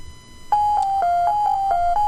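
An electronic school bell chime composed in a studio project plays a clean, loud sequence of synthesized tones, stepping between two close pitches in an even rhythm with sharp attacks and no other sound.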